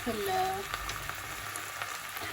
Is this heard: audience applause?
no